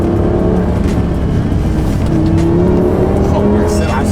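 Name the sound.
Lamborghini Gallardo V10 car accelerating on a country road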